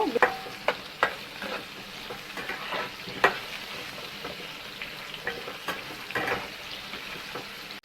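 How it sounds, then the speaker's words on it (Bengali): Potatoes fry in a pan with a soft continuous sizzle, broken by repeated scraping and tapping as a spatula stirs them at irregular intervals. "আলুটা আমি একটু হালকা লাল করে ভেজে নেব"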